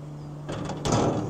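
Wooden doors on a narrowboat are pulled shut with a short scraping slide followed by a dull knock as they meet, close by and alone.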